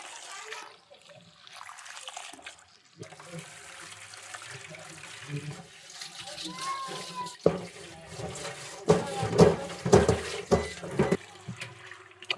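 Tap water runs and splashes into a basin as food is rinsed before soaking, a soft steady trickle swelling into louder splashing bursts toward the end.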